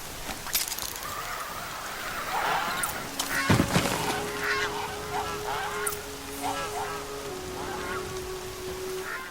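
A goose honks repeatedly in Horizon Zero Dawn, with a cluster of nasal, close honks rising over a soft rain-like ambient hiss. A sustained tonal hum runs along under the calls.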